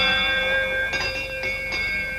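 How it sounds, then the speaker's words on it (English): A ship's bell aboard a $17,500 boat rings several times in quick succession, clear, ringing strikes over a steady sustained tonal hum. "Especially if I ring the ship's bell a few times like this."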